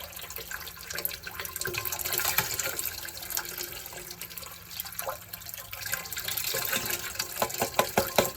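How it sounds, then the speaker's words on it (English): Water pours steadily into a homebrew vessel of mash for a Red X double IPA to dissolve brewing salts, a continuous faint splashing and trickling with small drips close by. "Just add the water on to recirculate the salts."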